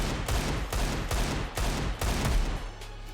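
Counter-Strike 2 gunfire as a rapid string of loud, booming shots roughly every half second, dense and continuous with a trailing rumble at the end.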